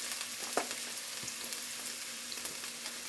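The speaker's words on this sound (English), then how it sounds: "2 stalks of celery, 1 onion, and 1 pepper. To be red, green, whatever color you want, pepper. And let's saute that." Celery, onion and bell pepper sauté in a skillet for cowboy chili, a soft steady sizzle close by with a few light stirring clicks and no speech.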